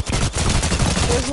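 Rapid gunfire in a 1v1 video game match, a dense burst of shots rattling continuously and loudly for over a second with no pause.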